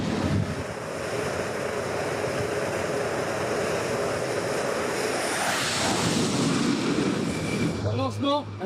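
Jet aircraft launched by catapult from the French aircraft carrier Charles de Gaulle, a sustained loud roar with rushing wind across the deck, swelling toward the end as a voice cuts in briefly.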